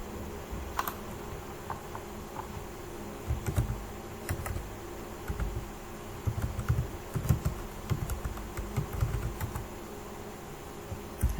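Computer keyboard typing, with scattered key clicks in a quiet room, moderately faint and continuous, occasional louder taps, no talking.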